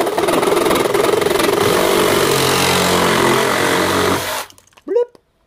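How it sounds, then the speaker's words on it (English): A Sawzall reciprocating saw with a fine tooth blade cuts through PVC pipe for a rainwater harvesting setup, a loud steady buzzing whine for about four seconds that stops abruptly, followed by a brief clatter. "a Sawzall with a fine tooth blade"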